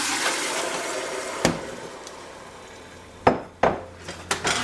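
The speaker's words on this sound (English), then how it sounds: "all you do is throw it into the pot" Chopped heirloom tomatoes dropped into a metal cooking pot for puree, with several sharp clanks and wet thuds, a single hit early and a quick cluster near the end, over a quiet background.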